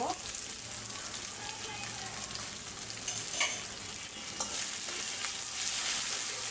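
Onion, ginger, garlic and spices frying in oil for an egg curry, a bright continuous sizzle with occasional spatula scrapes, close and fairly loud, no talking.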